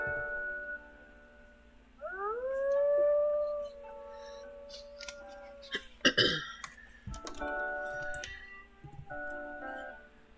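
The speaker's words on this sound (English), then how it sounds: "Just gonna howl." A wolf in the video game WolfQuest gives a long, clear howl that rises and then holds a steady tone for a couple of seconds. Softer clicks and small game sounds follow.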